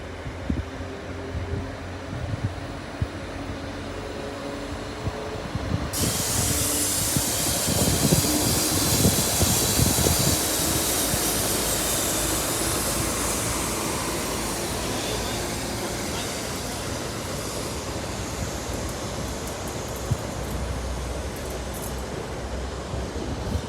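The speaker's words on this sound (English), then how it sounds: "Next up, the 1107 Northern train service from Leeds to Nottingham" A Northern class 195 train, 195021, passing through Sheffield station, a broad rumbling roar that swells suddenly, peaks, then holds steady as the carriages roll through the platform.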